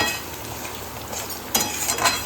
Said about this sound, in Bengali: তো এবার এটা আরও একটু কষাবো